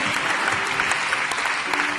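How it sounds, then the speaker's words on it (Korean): A church congregation at Onnuri Church claps warmly to welcome a pastor to the pulpit, giving a loud, even wash of applause from many hands throughout, with a faint voice underneath. "우리 올라오실 때 우리 큰 박수로 격려하며 사랑을 표현하기 원합니다"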